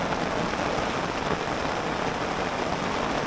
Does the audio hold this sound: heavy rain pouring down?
yes